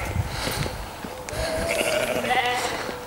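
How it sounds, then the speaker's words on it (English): Sheep bleat repeatedly near Ty Mawr Reservoir, with wavering cries rising over a rumbling background of engine or road noise on a steep road. "The sheep are saying hello."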